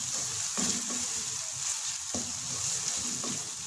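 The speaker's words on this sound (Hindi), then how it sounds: "मसालों को हमने अच्छी तरीके से भूनना है" Spices and tomato sizzle steadily in a pan for a daal mash dish, with a few soft stirring scrapes of a spoon breaking through the constant frying hiss.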